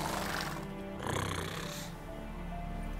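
In The Witcher 3, a horse snorts and huffs in a couple of breathy, rough bursts, close and fairly quiet, with a soft game ambience underneath.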